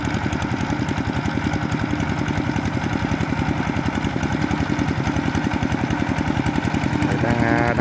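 A tractor tills a flooded rice field to prepare it for summer-autumn rice sowing, its engine chugging steadily in a loud, rapid pulsing throb that continues throughout.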